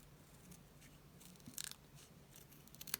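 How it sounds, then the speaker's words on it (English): Tiny scissors snip around a transfer sheet, a few quiet crisp clicks and cuts spaced irregularly over a faint room hiss. "I've decided to try use the world's smallest pairs of scissors"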